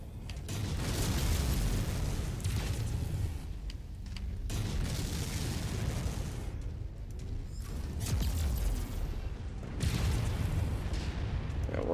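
Mech weapons in MechWarrior 5 pound a Griffin mech with heavy booming and rumbling blasts in repeated bursts of several seconds each, loud and dense, amid droning battle noise.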